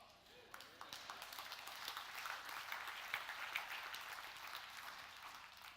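A church congregation breaks into applause during a sermon: faint, distant clapping swells up and holds at a soft, even level, with a little background voice.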